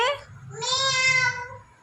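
A young child imitates a cat with one drawn-out, rising and falling meow, close and fairly loud, after a brief vocal sound.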